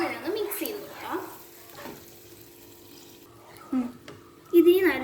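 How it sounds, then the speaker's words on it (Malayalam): Coconut milk is stirred into a fish gravy in a pan, giving soft scraping and liquid swishes with a light sizzle, while someone talks over much of it. "നമുക്ക് നല്ലോണം മിക്സ് ചെയ്ത് കൊടുക്കാം."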